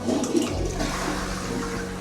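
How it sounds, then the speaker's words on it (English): Toilet flushing in the master bedroom bathroom of a small rural house, a steady loud rushing of water that fills the whole moment, up close with no voices. "Even the toilet can flush."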